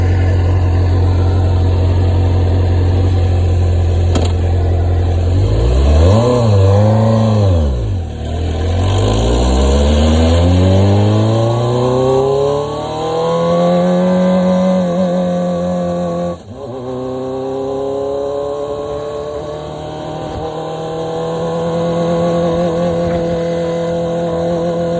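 A 1998 Suzuki GSX-R 600 SRAD motorcycle engine revs repeatedly during tuning, rising and falling in pitch through several loud, close throttle sweeps over a steady idle, with no voices.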